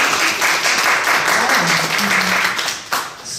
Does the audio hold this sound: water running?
no